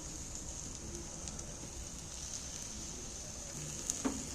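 Rice sizzles and fries with ground spice paste and turmeric in a pan, a steady, fairly quiet hiss with a few faint scrapes near the end and no talking.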